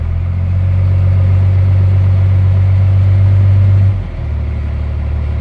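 Cummins diesel engine idling loud and steady with a deep low drone, then a brief dip around the four-second mark as throttle is blipped before settling back to idle.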